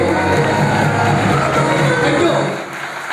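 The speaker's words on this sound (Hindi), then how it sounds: "तो मैं चाहता हूँ हमारे दोनों महागुरु जी के लिए एक जोरदार तालियां।" A large crowd at a business leadership speech event cheering and clapping, a loud dense roar of applause and voices that holds steady and then drops off toward the end.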